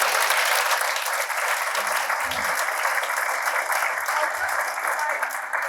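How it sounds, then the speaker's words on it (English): Sustained, even applause rises from the audience at a mental health event for keynote speaker Sarah Hopkins, loud and dense throughout, with a few low knocks or voices faintly underneath. "Can you give Sarah a warm round of applause?"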